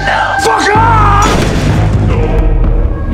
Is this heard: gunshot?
yes